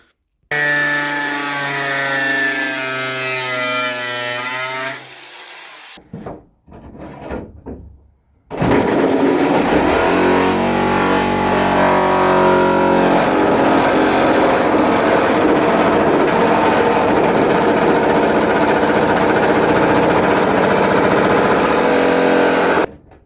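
An angle grinder cuts through the metal body of a Nissan NV400 van, a loud sustained whine that spins up, pauses for a moment, then runs steadily and harshly for about fifteen seconds before stopping.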